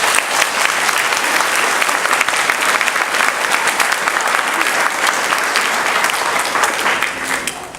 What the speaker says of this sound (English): let's have a round of applause for all of our educators